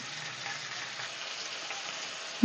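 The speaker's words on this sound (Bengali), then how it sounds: "আলুগুলোকে লাল লাল করে ভেজে নেবো" Long-cut potato pieces fry in oil with salt and turmeric. A soft, even sizzling hiss continues without pause and ends in a brief knock, with no one speaking.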